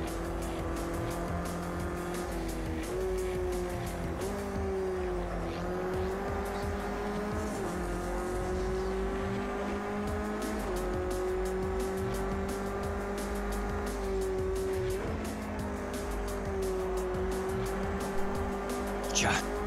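LMP prototype race car engine in Project Cars 2, a continuous high-revving whine that rises and drops through gear changes with occasional tire squeal, steady and close, while a voice speaks over it.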